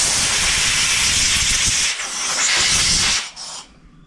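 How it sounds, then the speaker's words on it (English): Compressed air blowing through the needle seat and orifices of a Briggs & Stratton small-engine carburetor, a loud steady hiss with slight surges that cuts off after about three seconds, leaving a quieter tail. "I'll blow a light bit of stream of air through my needle or my seat."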